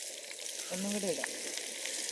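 A soft, steady sizzle of masala-coated fish frying in a pan, with a brief clatter and faint voice in the middle.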